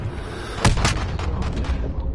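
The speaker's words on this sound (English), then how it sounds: "No one has an RPG or nothing, so like the map exploded." Explosion in the video game Modern Warfare: a sharp burst at about the middle, then a couple of smaller booms over dense, steady game noise, loud and close.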